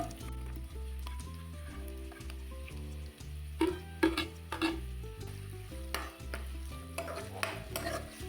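Sliced onions fry with chilli and curry leaves in a pan on medium flame, giving a steady sizzle with stirring clinks, under sustained background music.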